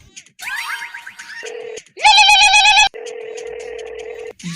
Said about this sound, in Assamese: চালা ফোন কৰিয়ে আছে